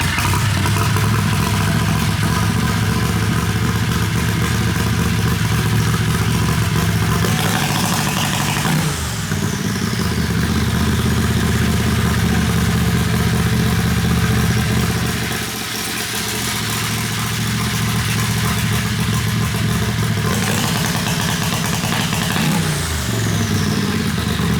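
A turbocharged Predator 670 engine in a dragster revs hard on a two-step launch limiter, a loud sustained buzzing roar that drops off sharply around nine and twenty seconds before building again.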